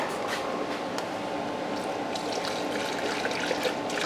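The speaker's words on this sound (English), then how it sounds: "now I'm refilling it with some antifreeze" Antifreeze pours into the radiator of a 2003-08 Dodge Ram 1500 with a 5.7L Hemi, a steady close trickling and gurgling wash of liquid running continuously with small bubbling splashes.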